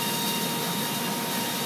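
Willemin Macodel W408B machining center milling at high spindle speed, around 28,000 RPM, a dense, steady high-pitched whine and rush of cutting noise, continuous and close, with no voices.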